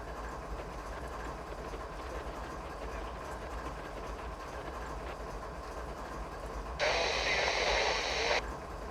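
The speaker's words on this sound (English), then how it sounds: "we are just going to wait on the Amtrak to clear the next signal" An Amtrak train passes in Train Simulator 2020 as a steady rail rumble that runs throughout, with a brief louder, brighter stretch near the end.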